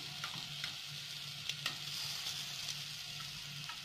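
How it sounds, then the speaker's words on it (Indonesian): Tempeh and tofu fritters (bakwan) sizzle softly in a dry pan without oil, with a steady frying hiss broken by a few light scraping clicks as they are flipped. "setengah mateng kita balik ini tanpa minyak"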